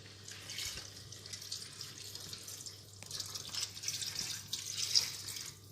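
Tap water runs into a container for a blanquette de veau, measuring out 50 centilitres, a steady hissing flow that swells louder toward the end, with no voices.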